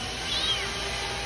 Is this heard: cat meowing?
yes